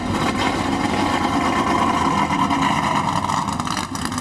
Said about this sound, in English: Great to hear the sound of those engines